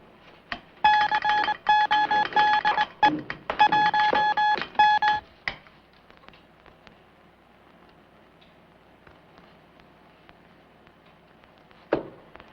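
A burst of high electronic beeping tones in quick clustered pulses for several seconds, radio code from a transmitter, then fading to a low hum with a single sharp click near the end.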